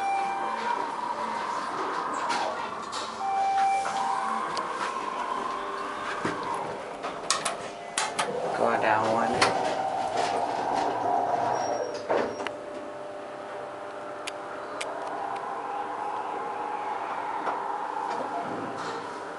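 A Schindler MT elevator at the L.L. Bean store in Tysons Corner mall, Virginia, runs with a steady hum, soft clicks and ticking relay noises, a chime-like tone and a door sliding midway, recorded close with no talking.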